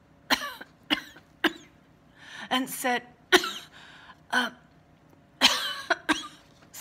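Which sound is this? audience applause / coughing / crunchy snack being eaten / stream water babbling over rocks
coughing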